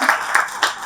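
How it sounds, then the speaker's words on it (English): Audience applause at the close of a plenary panel session on climate-resilient infrastructure, a few distinct claps in an uneven rhythm, near and fairly loud, with no talking. "A big round of applause again, please."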